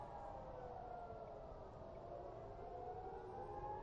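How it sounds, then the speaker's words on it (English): Civil defense air raid sirens wail across Israel during an Iranian ballistic missile attack, a continuous, slowly rising and falling tone that sounds distant and carries on without pause. "For the last hour, sirens have been going off across the whole country."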